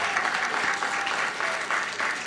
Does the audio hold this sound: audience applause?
yes